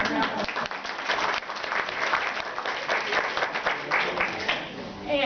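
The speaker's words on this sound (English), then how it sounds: "So let's give them a round of applause." A library audience gives a round of applause, dense steady clapping from a seated crowd that holds evenly throughout, with some voices mixed in underneath.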